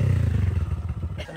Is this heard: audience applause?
no